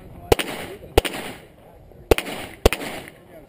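Four sharp shotgun blasts at a trap shooting range, arriving in two pairs with short echoing tails, loud and close against a quiet outdoor background.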